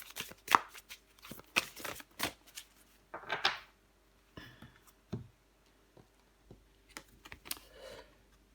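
Tarot cards are shuffled and drawn one by one on a table, giving soft, close riffles and scattered light flicks and taps with quiet gaps between them, and nobody speaks.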